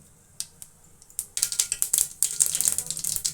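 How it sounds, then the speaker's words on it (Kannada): Mustard seeds splutter in about four tablespoons of hot oil on a stove: a few isolated pops at first, then a busy, crackling burst of sharp spitting that carries on to the end. "ಎಣ್ಣೆ ಕಾಯ್ತಿದ್ದಂಗೆ ಸ್ವಲ್ಪ ಸಾಸಿವೆ"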